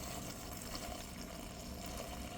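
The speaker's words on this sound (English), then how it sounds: "we can then pour in the cleaner for the brass" Liquid brass cleaner is poured into a storage bag, making a steady, soft gurgling pour that runs without a break for the whole moment.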